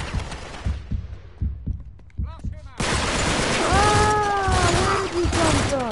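Rapid gunfire bursts from the video game Uncharted 3: Drake's Deception, a string of close, punchy shots at the start, then loud continuous battle noise with whistling tones and a voice.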